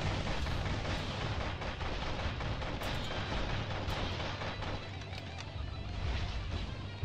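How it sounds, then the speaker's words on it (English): Orbital strike in the mech video game Heavy Storm Shadow, a sustained roar of dense, rumbling explosions and crashing blasts that stays loud and continuous throughout with no talk. "That's the orbital strike."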